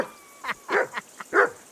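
A dog in the video game Kingdom Come: Deliverance gives a quick series of short barks and yips, about five sharp bursts, close and fairly loud.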